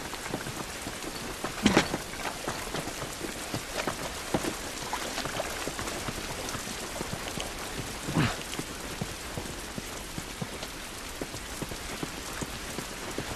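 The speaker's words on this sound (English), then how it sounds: "This rain ain't gonna do us any good" Steady rain in The Last of Us pours down on surfaces as a dense, constant hiss with scattered droplet patter, and a couple of louder sharp impacts stand out briefly. No voices are heard over it.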